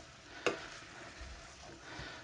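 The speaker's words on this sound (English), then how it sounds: "Just give it a little bit more frying" Lasagna meat sauce frying in a pan over relatively high heat gives a steady, soft sizzling hiss, with one sharp utensil knock near the start and faint stirring scrapes, no talking.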